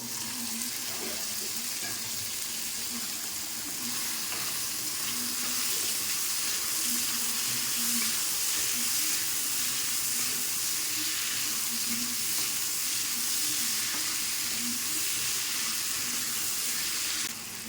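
Boiled jackfruit pieces frying in a pan of hot oil, a loud, continuous close hiss that holds steady for the whole stretch with no voices.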